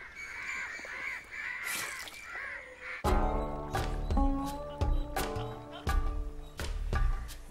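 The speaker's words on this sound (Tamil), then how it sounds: "இந்த காக்காங்களால பெருந்தொல்லியா இருக்கப்பா" Crows caw loudly and repeatedly in a movie scene, harsh calls rising over background noise before a rhythmic, clopping beat takes over with the cawing continuing on top.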